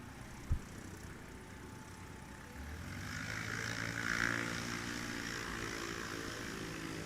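A 1954 Cessna 170 with super conversions takes off at a Swamp STOL competition in Jennings, Louisiana, its propeller engine droning at a distance and building gradually over steady background noise.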